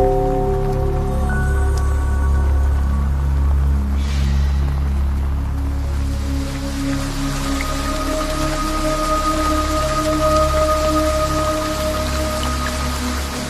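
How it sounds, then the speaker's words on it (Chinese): Rain falls steadily on the ground outside a gateway, a dense continuous patter with water pooling, moderately loud and unbroken, under a low hum. "天这样下雨，地面积水"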